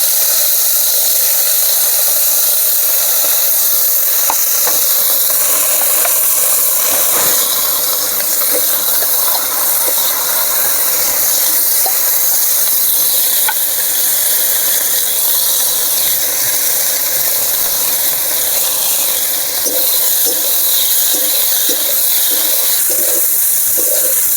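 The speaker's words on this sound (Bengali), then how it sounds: "সব সবজিগুলো আমি ভেজে নেব পরিমাণ মতো লবণ হলুদ দিয়ে" Loud, continuous sizzling hiss of vegetables such as Malabar spinach and long beans frying in a pan with salt and turmeric, with scattered crackles and pops running throughout.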